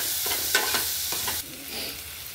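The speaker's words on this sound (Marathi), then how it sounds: "परतून घेऊ कांदा। मीडियम गॅसवरच परतायचा, नाही तर जळून येऊ शकतो।" Onion sautéing in a pan over medium gas heat, soft sizzling with a few scraping stirs of a spoon early on, then a quieter steady fry, faint and close.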